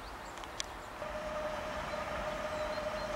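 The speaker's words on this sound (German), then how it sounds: "Und da fährt die nächste Trax aus." A Traxx electric locomotive pulling out of a station, its steady rising hum and rolling rumble building up close, with a sustained whining tone and a brief clank at the start.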